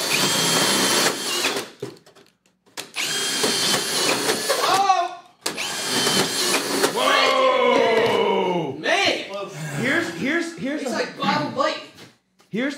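Ridgid and Makita hammer drills drive self-tapping screws at speed 2, loud close motor whines rising and cutting out in several bursts, with shouting voices over the drilling.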